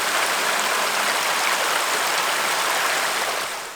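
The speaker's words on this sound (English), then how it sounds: "Running water. It's cool how it like turns right there." Mountain stream along the Rainbow Lake Trail in Colorado runs in a steady, close, broad rushing wash of water with no other sounds, fading slightly at the very end.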